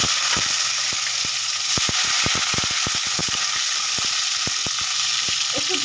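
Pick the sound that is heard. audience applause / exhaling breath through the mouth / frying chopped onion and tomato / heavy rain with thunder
frying chopped onion and tomato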